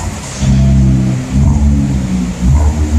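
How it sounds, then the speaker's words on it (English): A boosted Infiniti Q50S with an automatic transmission and a resonated exhaust revs loudly up close, giving several deep throaty surges that rise and fall in quick succession. "rev it a few times for me"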